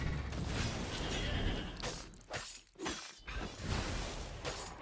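Glass shatters repeatedly in Stories: The Path of Destinies, a loud burst of breaking crashes with a brief dip partway through before more smashing follows.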